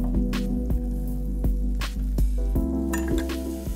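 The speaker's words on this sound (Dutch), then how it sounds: "We gaan die nadien aanbakken in een klontje goeie boter uiteraard." Coarsely cut onions sizzle in a knob of butter in a pan for onion soup, a steady close frying hiss broken by a few clinks and stirring sounds, with no talking.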